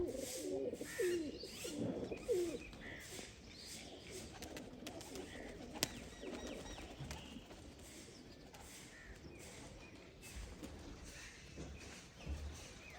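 A flock of around thirty dyed pigeons coos in soft repeated bursts, loudest early on, then fading into a quieter outdoor background with scattered faint bird sounds.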